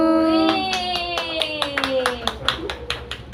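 Several people clapping hands at a birthday celebration, a steady run of claps over a sung melody and voices, growing sharper and more distinct toward the end.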